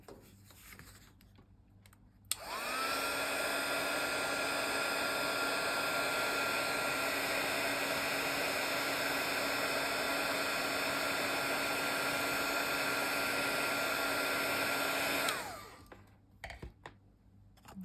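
Craft heat tool blowing steadily while embossing a Halloween card, a continuous loud whooshing hiss that clicks on, runs for about thirteen seconds without a break, then winds down and switches off.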